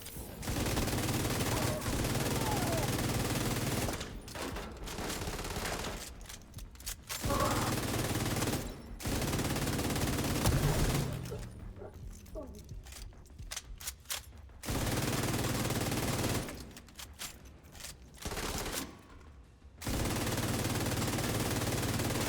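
Bursts of rapid video game gunfire rattle on and off, separated by brief quiet gaps, with a voice talking faintly in places.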